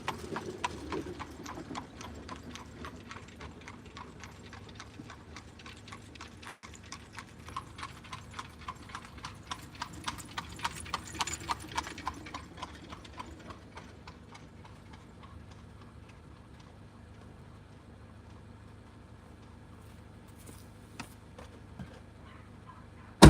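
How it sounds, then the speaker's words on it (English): Horse hooves clip-clop in a steady rapid rhythm, starting faint, growing louder as the animals pass near, then fading away into the distance, with no talking over them. "Did you hear the horses galloping"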